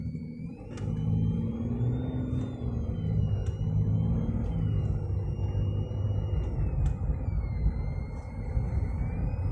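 A car pulls forward from a traffic light, a steady low engine rumble and road noise heard from inside the vehicle, with occasional faint clicks and no talking.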